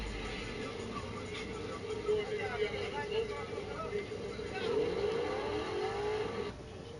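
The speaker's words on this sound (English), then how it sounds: "All these goddamn cars down through here" Cars pass on a road in a steady stream, with engine and tire rush swelling and fading, and one louder vehicle sweeping past near the end, while people talk.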